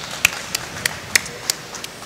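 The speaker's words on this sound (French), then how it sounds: "On peut encore les applaudir" A handful of people give scattered, sharp claps for tournament runners-up, with six or so separate hits spread irregularly over a soft background hum.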